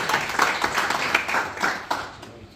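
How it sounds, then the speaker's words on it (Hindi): A crowd claps for Ustad Ilyas as he receives the fourth prize of one lakh rupees at a prize ceremony. The clapping comes in rhythmic bursts and thins out toward the end. "चौथा इनाम 1 लाख रुपया उस्ताद इलियास पाइपों वाले, भरपूर ताली"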